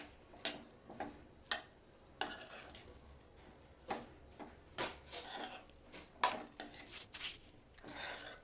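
A spoon stirs tomato rice in a pot with the stove switched off, making a steady series of scraping strokes against the metal at a close, moderate volume.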